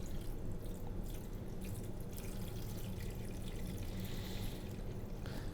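Room-temperature water pours gently into a plastic fermenter bucket for home brewing, a soft continuous splashing trickle at low level with no talk.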